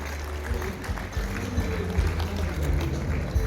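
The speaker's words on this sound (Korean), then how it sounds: "우리 뜨겁게 감사의 마음을 담아서 박수해 주시면 감사하겠습니다" Applause from a church congregation at a joint celebration of the Hapdong and Gaehyeok denominations, a soft, distant, continuous patter of many hands under a low hum of the hall.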